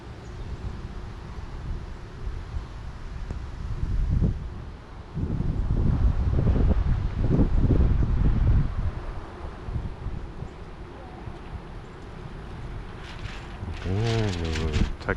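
Strong wind gusts roar across an outdoor sailing spot while a Dragonforce 65 RC sailboat is sailed on a windy day, loudest in the middle and steadier at the edges, with a brief tonal whine near the end.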